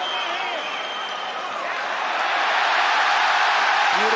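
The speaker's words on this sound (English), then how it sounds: "Listen to this crowd." A crowd at the Volkanovski vs Makhachev MMA fight roars continuously and swells louder toward the end, a broad wash of cheering from a large arena.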